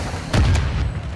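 One short boom from a video game grenade, a low thud that rises quickly and then fades into a soft rumble.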